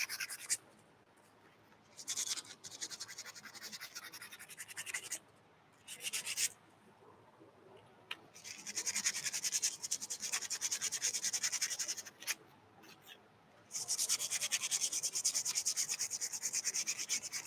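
Stormtrooper armor parts being sanded down by hand, with bursts of rough, rasping strokes broken by short pauses, close and fairly loud with no talking.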